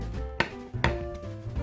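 Soft cooked chestnuts are chopped on a board, two sharp knife thuds about half a second apart over a quiet background, close and alone.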